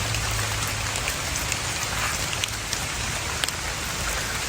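Steady rain pattering on leaves and ground in a Khao Yai forest on the trail to Kong Kaew waterfall, a dense continuous hiss with scattered close drips and no voices.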